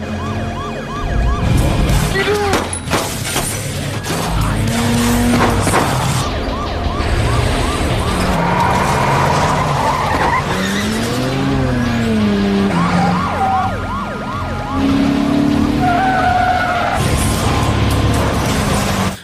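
Tyres squeal and skid repeatedly during an action film car chase over a police siren and roaring engines. The sound is loud, dense and continuous.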